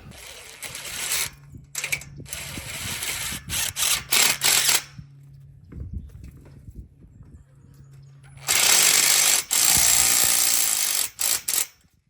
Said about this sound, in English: we're pre-drilling and then putting the tapping screw in